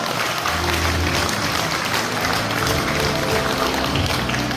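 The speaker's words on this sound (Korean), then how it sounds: "박수 한번 주시기 바라겠습니다" Steady applause from a large crowd at a golf tournament event, sustained and even throughout, with a faint murmur underneath.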